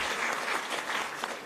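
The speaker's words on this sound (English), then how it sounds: "Please, a round of applause to the panelists." A dense burst of audience applause for a summit panel on international cooperation, many hands clapping together at close range, loud and brief.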